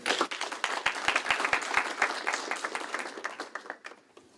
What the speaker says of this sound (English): Give a round of applause for Bryant Alexander.